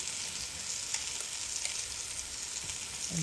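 Turmeric and homemade curry powder fry in a hot pan of oil for a tomato and egg curry, giving a steady, close, unbroken sizzle with no voices.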